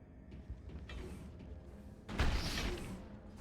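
In the video game Mass Effect, a door mechanism grinds and hums, then slides open with a louder whooshing surge midway through, under a low ambient drone.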